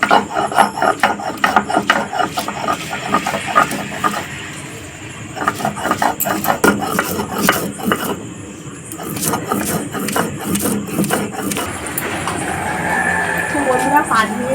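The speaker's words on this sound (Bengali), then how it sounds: "এগুলো আমি শিলে এবারে খুব ভালো করে বেটে নেব" Garlic, dried chilli and chopped onion are ground on a stone slab, a steady run of gritty rubbing and knocking strokes close by, pausing briefly and resuming, with someone talking over parts of it.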